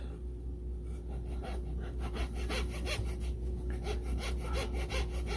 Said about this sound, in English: I'll be cutting a coin.